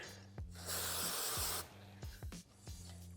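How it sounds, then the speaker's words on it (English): Contact cleaner sprays onto the air filter sealing surface of a 2025 Honda CRF250/450R dirt bike, a close hissing burst of about a second amid light tapping and handling noises, with a low hum underneath. "So just using little contact cleaner and a rag here."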